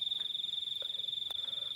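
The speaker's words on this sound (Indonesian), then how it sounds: "Kalau jam segini udah dingin, suaranya cuma jangkrik" Crickets near Mount Lawu on a cold night trill in a fast, steady pulsing chirp, high and piercing, close and continuous, with a few faint scattered clicks behind.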